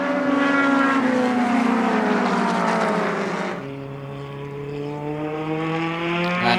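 Datsun 510 production race cars, introduced in 1967, race at Sonoma Raceway, their high-revving engines whining loudly as a pack passes, then dipping in pitch and volume before another engine note rises again.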